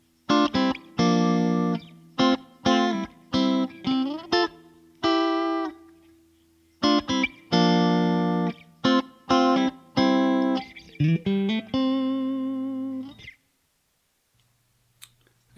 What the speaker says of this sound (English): Okay, and then we go through the chorus.